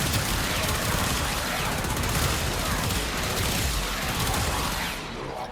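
Rapid, dense gunfire from the Laetum weapon in the video game Warframe, sustained loud bursts of shots blending with impacts and effects, continuous for several seconds before easing slightly at the end.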